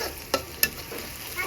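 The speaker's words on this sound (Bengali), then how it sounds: "এটা আমি পেঁয়াজের সাথে ভেজে নেব" Cardamom frying with onions in a pan makes a soft, steady sizzle at close range, with a couple of sharp clicks of a stirring utensil against the pan and no talking.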